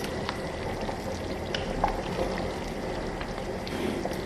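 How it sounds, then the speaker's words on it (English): Ora soup is stirred in a pot on the heat, with soft bubbling and sizzling under faint scraping, irregular knocks of a spoon, all fairly close and steady without talk. "So I'm just stirring it"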